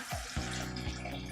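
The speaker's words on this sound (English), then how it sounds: "I'm gonna pour it into my French press" Hot water pours steadily from a kettle into a French press, a close, continuous liquid stream with a rising gurgle and no talking.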